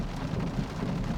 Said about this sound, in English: That's the thunder. It's amazing.